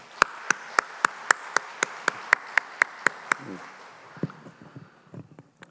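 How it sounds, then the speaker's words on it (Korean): Regular sharp claps ring out in a steady rhythm of about a dozen beats, like a church congregation clapping in unison during a service, then fade into scattered shuffles and small knocks. "우리 박수해 주시기 바랍니다"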